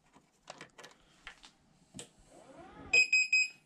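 After some clicks and handling noises, a Tresani electric standing desk controller emits three loud, evenly spaced high-pitched beeps.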